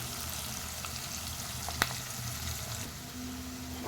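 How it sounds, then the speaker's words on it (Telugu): Onions sizzle and fry steadily in a pan while an Andhra-style chicken and drumstick curry is being made, a close, even crackle with one brief sharp clink near the middle and no talking. "ఆనియన్ ఫ్రై అయిందండి"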